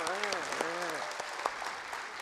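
Audience applause at a national church elders' conference rises as a steady wash of clapping, heard under and just after someone speaking from the stage.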